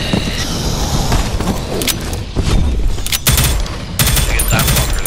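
Pistol fire in the shooter game Prodeus rings out as several loud, sharp shots in quick bursts over a busy game soundscape. Each report cracks close and heavy.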